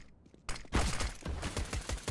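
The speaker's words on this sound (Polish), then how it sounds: "ma jakąś eksplozję przy drzwiach, ale Biały mimo to zdobywa eliminację." Sharp explosion and gunfire bursts in the video game CS:GO near a door, a sudden loud blast followed by a dense run of rapid cracking shots close by.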